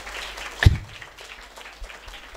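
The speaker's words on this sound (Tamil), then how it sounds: "இன்னும் நல்லா ஜோராக கைத்தட்டுங்க." A church congregation claps at the Vacation Bible School final-day programme, a sharp loud burst of applause followed by softer scattered clapping, with no talk over it.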